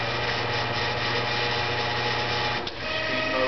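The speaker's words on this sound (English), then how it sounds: "Bringing spindle on." Spindle of an Emco Maximat V10 combination lathe-mill on a factory stand, driven by a 2-speed electric motor, running with a steady mechanical whir and hum throughout, close and continuous, with a brief dip near the end.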